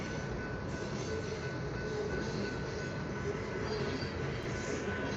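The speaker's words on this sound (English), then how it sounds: "Be a good spot right here to catch trains from" A freight train passing along a railway near Kingman, a steady rumbling roar of wheels and cars at moderate distance, continuous and fairly faint, no talk.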